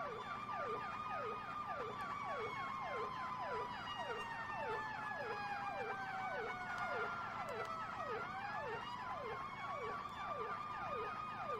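Several emergency vehicle sirens in Farming Simulator 17 wail together at a fire rescue, their rapid yelp cycles overlapping steadily and loudly, with one tone sliding lower then rising again near the end.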